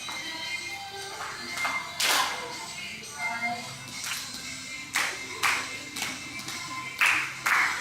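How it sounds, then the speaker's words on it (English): Sharp hand claps ring out during a dance rehearsal in Makassar or Toraja, landing as loud, spaced single and paired claps among softer taps and shuffling, with quiet voices in the background. "Come on, man, put more life in your clapping."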